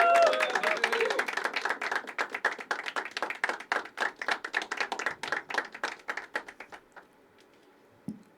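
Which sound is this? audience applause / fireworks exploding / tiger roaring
audience applause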